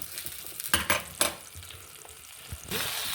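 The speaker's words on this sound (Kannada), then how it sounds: "ಅದಕ್ಕೆ ನಾನು ಎಣ್ಣೆ ಬಿಸಿ ಮಾಡಿ ಹಾಕೊಂಡೆ" Hot oil is poured onto masala in a pot for brinjal palya, bursting into sharp sizzles followed by a quieter steady hiss, close and fairly faint overall.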